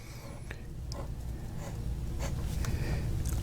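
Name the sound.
fountain pen nib writing on paper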